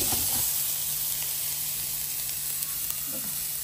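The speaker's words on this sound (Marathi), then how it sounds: "आता हे सुद्धा आपल्याला छानपैकी कढईमध्ये भाजून घ्यायचं." Freshly grated wet coconut roasts in a kadhai with a steady, close hissing sizzle and faint stirring scrapes throughout.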